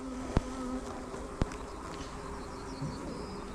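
Honey bees hum steadily during a weekly hive inspection on a farm, a dense close drone with a couple of sharp knocks from handling the frames.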